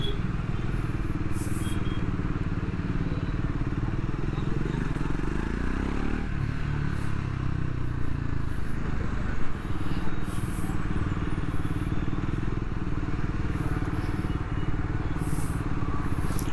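A Triumph Scrambler 400X motorcycle rides along on a road test, its engine rumbling steadily with heavy wind noise throughout and some clatter as the pitch shifts midway.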